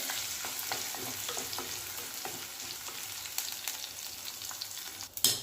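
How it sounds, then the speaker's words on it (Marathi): Red chillies, curry leaves and crushed garlic fry in hot oil with a steady close sizzle and light stirring taps, and a sharp louder clatter near the end. "चार लाल मिरची थोडासा कढीपत्ता लसन छान भाजत देऊया"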